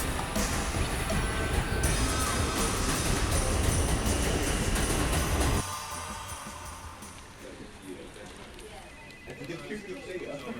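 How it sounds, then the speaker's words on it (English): A Manhattan-bound 2 train on the New York subway rumbles and rattles loudly along the track, with a continuous clattering roar that drops to a quieter rolling hum partway through. "This is a Manhattan-bound 2 train."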